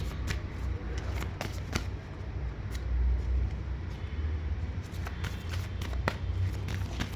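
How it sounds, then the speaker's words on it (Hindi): Tarot cards being handled and drawn from a deck, heard as a steady papery shuffling with a few sharp snaps and slaps over a low room rumble, fairly close. "तो मैं पहले सारे कार्ड्स निकाल लूँगी, उसके बाद में ही रीडिंग करूँगी."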